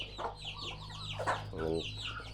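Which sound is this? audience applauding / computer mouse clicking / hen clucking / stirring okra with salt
hen clucking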